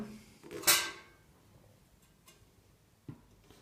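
A cast iron and steel Valor stove being opened gives one loud metallic clunk near the start, followed by a couple of faint clicks in an otherwise quiet room.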